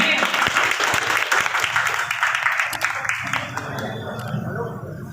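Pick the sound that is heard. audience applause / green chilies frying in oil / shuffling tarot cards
audience applause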